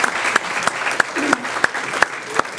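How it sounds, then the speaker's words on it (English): An audience claps for the panelists at a public discussion event, a brief burst of fairly close applause with a few sharper, louder individual claps standing out. "Round of applause for our panelists."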